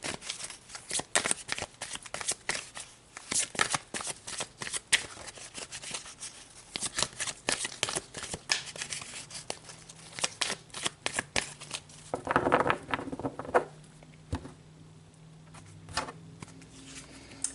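Tarot cards are shuffled and pulled in a long run of dense, close flicking and slapping card sounds, with occasional soft handling noises and little or no talking.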